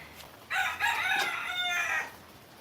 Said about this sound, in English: And there's the rooster.